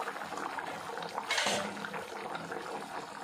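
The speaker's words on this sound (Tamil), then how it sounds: "இது நல்லா கொதிக்கிட்டு அதுக்கப்புறம் புளி தண்ணி வந்து இதில் சேர்த்துக்கலாம்" Spicy tamarind kaara kulambu with masala and vegetables boils in a pot, giving a steady soft bubbling hiss with a brief louder surge midway, heard close and moderately quiet.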